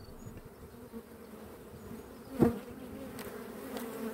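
Honey bees at an open hive while frames are added in spring: a steady, close insect buzz hums throughout, with one louder bee passing near midway.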